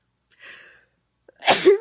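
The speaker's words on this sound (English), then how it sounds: "I'm going to sneeze." A single sharp sneeze, close and loud, preceded by a short breathy intake.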